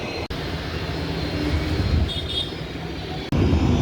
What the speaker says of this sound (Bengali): বিমানগুলো এখন আকাশে উড়ে যাবে একবার সাউন্ডটা শুনুন কি সাউন্ড